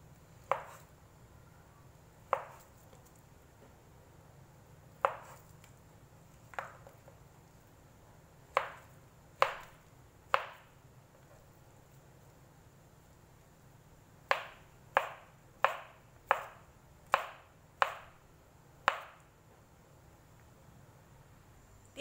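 A knife dices Vietnamese pork sausage (chả lụa) into small cubes on a cutting board: sharp close thuds, sparse and irregular at first, then a quick run of chops later, over a quiet background.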